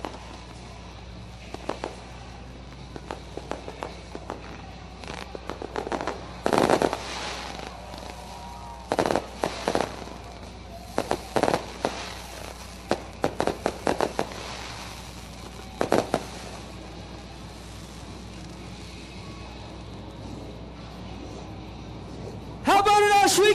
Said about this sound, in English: Real fireworks to come.